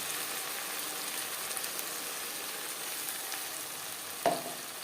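Ginger and green chili paste sizzles with onions in hot oil, giving a steady, moderate frying hiss with one short clunk near the end.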